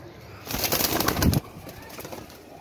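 Soft cooing of Teddy pigeons and bird calls close by, with a brief louder burst of fluttering or rustling midway, then a quieter murmur of birds.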